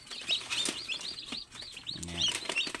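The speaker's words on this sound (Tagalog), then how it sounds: "So mamaya ipapakita ko sa inyo yung nanay niyan at tatay. So mahaba-habaan natin yung video na to. Ayan, so ito may dalawang sisiw na din sa ilalim." Newly hatched chicks peep in short, high repeated chirps from inside an incubator, fairly close and steady, with a brief low hum and some handling noise in the background.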